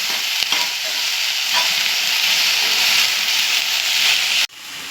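Kokum and salt being roasted and stirred in a pan: a loud, steady, bright hiss of sizzling with faint scraping, holding evenly for several seconds before dropping away abruptly near the end.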